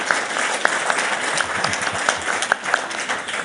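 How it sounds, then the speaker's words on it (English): Applause from a conference audience at a Davos gathering, a moderately loud wash of clapping with a few sharper individual claps popping out, continuous across the short stretch. "you're almost getting as much applause as the Ukrainian soldiers"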